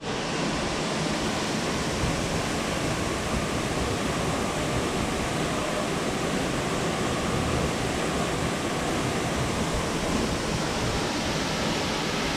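A waterfall in Oregon's Columbia River Gorge roars with a constant, broadband rush of falling water, steady and unbroken from start to finish with no voices.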